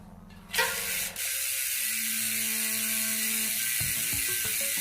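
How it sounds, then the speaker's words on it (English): A Yoeleo carbon bicycle wheel with a freshly mounted tire spins freely, its hub giving off a steady mechanical ratcheting whir and click close by, after a brief louder rush at the start, with no talking. "What I'm doing now is I'm spinning the wheel"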